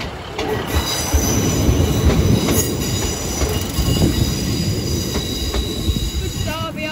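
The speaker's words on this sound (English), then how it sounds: "Train's approaching." A Class 950 train rolls through the Sleaford East level crossing, loud and close, with a dense rumble of wheels, high metallic squeals and faint clicks from the track throughout.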